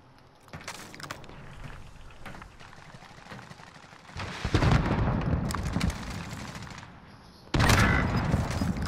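Gunfire from a Bruen/AX50 loadout in a Call of Duty battle-royale match, with several bursts of shots over a constant rumble, loudest in clusters near the middle and at the end, and faint voices underneath.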